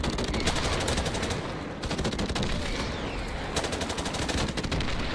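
Dense automatic gunfire fills a video game firefight, with sustained machine-gun bursts and rapid shots running almost continuously, loud and close, with only a brief lull.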